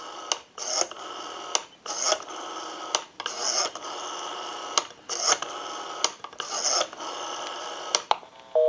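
Rapid clicking bursts of a Western Electric 354 rotary wall telephone's dial returning, separated by short pauses, over a faint line tone, with a brief beep at the end.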